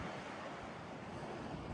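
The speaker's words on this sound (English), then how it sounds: "Windy." Wind roars steadily over a seaside pier, a broad continuous rush with surf-like noise and microphone buffeting throughout, loud and unbroken with no voices.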